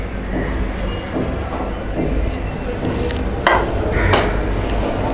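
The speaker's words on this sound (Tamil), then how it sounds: "இதை வச்சு நல்லா இந்த மாதிரி மிக்ஸ் பண்ணிவிட்டே இருங்க." Milk for custard is stirred in a pan on the stove, with a steady scraping swirl and a few sharp clinks of the utensil against the pan, heard close up.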